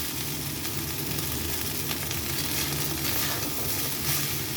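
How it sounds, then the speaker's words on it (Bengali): Gobindobhog rice stir-fried in a hot pan, a dense, continuous close sizzle with faint stirring scrapes throughout and no talking. "তো এখানে আমার ভাজা হয়ে গেছে রাইসটা"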